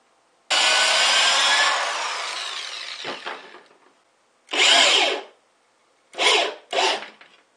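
A power drill driving a screw into wood whines loudly for a few seconds, then fades, followed by three shorter, sharp bursts with brief pauses between.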